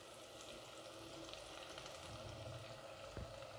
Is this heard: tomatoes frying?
yes